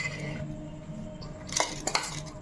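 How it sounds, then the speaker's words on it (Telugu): Onion and tomato omelette ingredients stirred in a bowl, a few light clinks of a utensil against the dish, quiet and close. "చక్కగా కలిపేసుకుందాం కదా."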